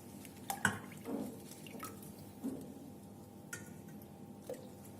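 Liquid being poured while making Kolot cheese, a Black Sea curd cheese: soft drips and splashes come in irregular bursts over a faint background, with a few sharper plops near the start and no talking.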